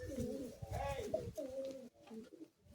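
Teddy and kaldom fancy pigeons at a bird sale coo softly in low, rolling phrases, close but faint, with a few murmured repeats.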